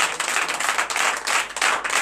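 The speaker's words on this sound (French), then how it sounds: "Et c'est comme ça que vous applaudissez dans le nom." A church congregation at a morning prayer service applauds in a dense, sustained burst of clapping from many hands, loud and close, with faint voices mixed in.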